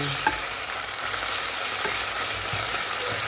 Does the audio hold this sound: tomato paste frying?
yes